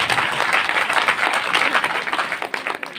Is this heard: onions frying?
no